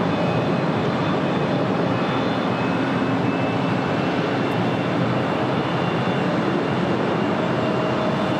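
A Boeing 747-400 freighter at Los Angeles International Airport gives a continuous, loud, broadband jet engine roar that stays steady throughout, with no voices.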